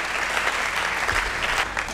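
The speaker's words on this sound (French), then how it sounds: "On acclame très fort pour le roi des rois." Church congregation applauding for the King of kings during a sermon, a dense, steady wash of clapping from many hands throughout, close and fairly loud.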